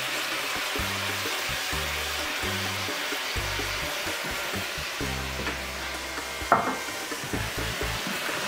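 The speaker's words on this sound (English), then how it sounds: "Stir that up real good." Chopped garlic is stirred in a hot pan with other ingredients, a continuous close sizzle overlaid by repeated scraping strokes of a spoon, with a single sharp clink near the end.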